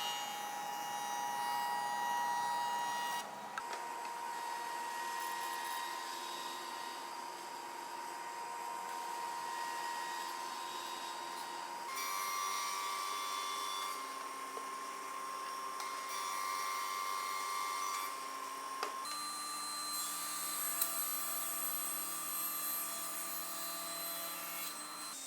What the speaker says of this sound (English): Same thing, gonna flatten one face on the joiner.